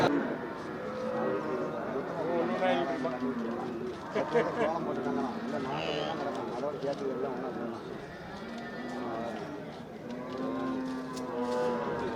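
Cattle low at a crowded village cattle market, with moos and animal sounds mixed into a steady din of many people talking nearby and birds calling in the background.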